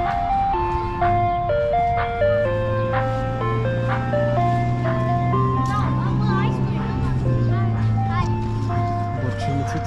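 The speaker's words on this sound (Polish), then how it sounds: "przyjechało auto z lodami" An ice cream truck at a playground plays its looping electronic jingle loudly and close by, a tinkling melody over the steady hum of the idling motor, with voices talking faintly in the background.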